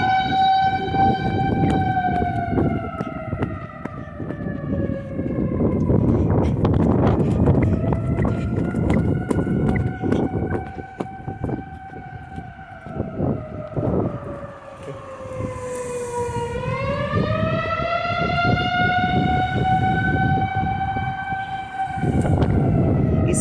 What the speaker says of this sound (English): We'll see if we can film some action with them sirens